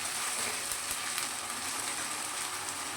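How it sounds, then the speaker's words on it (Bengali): Ingredients for a wedding-style mutton curry fry steadily in a pan, giving a continuous close sizzle and crackle without pause and with no talking. "এটাও ভালো করে ভেজে নেব।"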